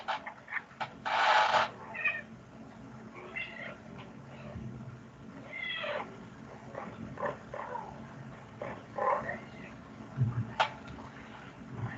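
A house cat meows several times across a quiet room, short separate calls spaced out with gaps, moderately close, with faint background hum.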